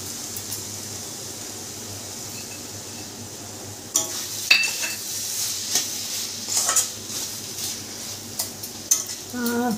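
Green chillies are stirred into a pan of cooking food, with a quiet sizzle at first, then a run of close scraping and clinking spoon strokes against the pan over the second half.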